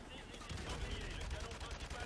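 Gunfire from a weapon in Call of Duty 4 Modern Warfare Remastered, a dense burst of rapid shots at close range, loud and continuous over the whole stretch.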